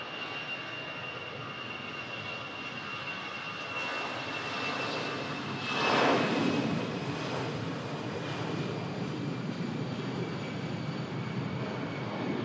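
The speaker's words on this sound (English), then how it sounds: "Now about to depart is the EasyJet A319" EasyJet Airbus A319 departing Manchester Airport for Belfast, a sustained jet roar with steady tonal whines, building around the middle with a brief louder surge before settling into a constant drone.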